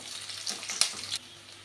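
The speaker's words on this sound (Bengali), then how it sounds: "একটু লাল করে ভেজে নেব।" Food sizzles and fries in a pan with brief stirring scrapes, a soft hissing crackle that swells and fades over a couple of seconds, fairly quiet and close.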